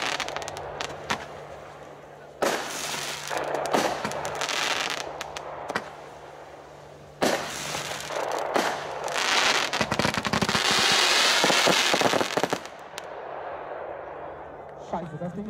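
New Year's fireworks display by CSH Fireworks in Gardelegen, with loud close bursts and crackling volleys in irregular bunches, rising to a dense sustained barrage near the end, with brief voices in between.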